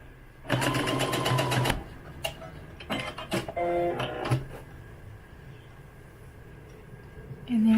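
A home sewing machine stitches lace along a folded fabric edge for doll undergarments, a fast steady run of stitching for about a second, then a few shorter bursts and pauses.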